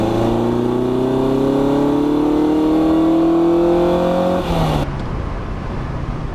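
A Ferrari 456 V12 engine revs with its airbox cover fitted, a steady loud drone with rising pitch over several seconds that then drops sharply as the revs fall away near the end.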